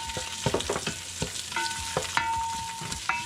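Garlic and onion sizzle and fry in hot cooking oil in a pan, with steady crackling broken by repeated stirring scrapes and clanks from a utensil, close and fairly loud.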